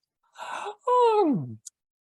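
A voice imitates a big stretchy yawn, with a short breathy intake and then a long groaning tone that slides downward, close and loud, ending in a small click.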